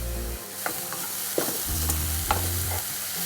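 Cashews and raisins are stirred in a hot frying pan, with a steady close sizzle of oil broken by a few sharp scrapes and clinks of the spoon against the pan.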